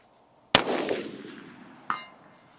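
A 6.5 Creedmoor bolt-action rifle fires a single loud shot at a long-range precision session, its blast trailing off slowly, followed about a second and a half later by a fainter distant report or impact.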